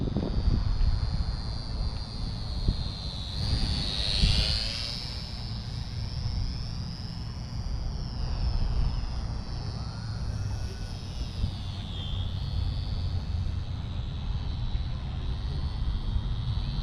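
An XK T-28 Trojan radio-controlled model plane flies overhead with a steady high whine whose pitch sweeps up and down as it passes, under constant outdoor wind rumble.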